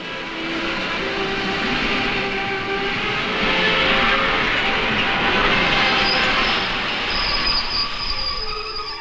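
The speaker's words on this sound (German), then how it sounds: "Gleich wird ein Zug aus Richtung Köln eintreffen." Train arriving from Cologne at a station in Nettersheim during a village fair, with a loud steady rumble of wagons rolling in close by and high wheel squeals rising toward the end, and no voices.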